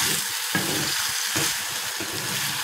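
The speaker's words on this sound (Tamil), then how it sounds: "கொஞ்சம் இலை வந்து நல்லா வதங்கணும்" Thuthuvalai leaves sauté in a pan with a steady, close sizzle and soft stirring scrapes throughout, and no voices are heard.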